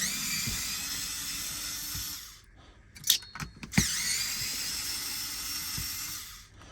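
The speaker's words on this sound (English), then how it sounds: "This is a cool little screwdriver." A small screwdriver backs screws out of a Hyper Tough 20V brushless impact wrench, giving a steady high whirring drone interrupted midway by a few sharp clicks and clatters before the whir resumes.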